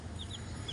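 Backyard chickens cluck in a few short, soft calls close by against a low background murmur.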